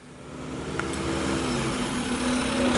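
A garbage truck passes outside, its engine rumbling low and steady and slowly swelling louder as it approaches, with no talking over it.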